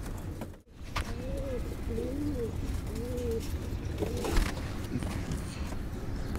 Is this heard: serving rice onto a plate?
no